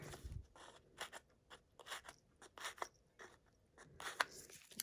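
Card stock being cut for a side-fold easel card, a series of crisp snipping and crunching strokes in an irregular rhythm, close and quiet, with no talking.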